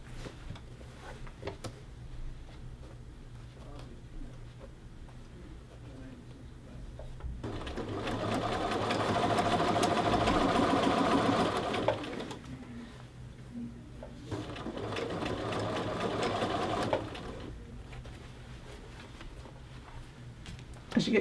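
Sewing machine edge stitching a men's shirt collar band, running in two steady bursts of even, fast needle hum separated by a short pause, fairly close in a quiet room.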